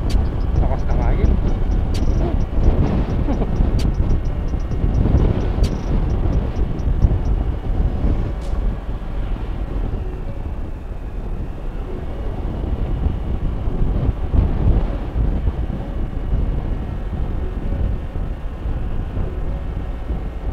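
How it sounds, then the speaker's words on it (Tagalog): Strong wind buffets the microphone at a flood control site in Candating, Arayat, Pampanga, with a constant low roar and rumble throughout, while a voice speaks faintly underneath. "Lakas ng hangin."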